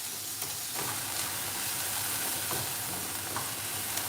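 Garlic and onions fry in a pan for vegetarian Asian noodles, giving a steady, close sizzle with soft scraping stirs and light clinks throughout.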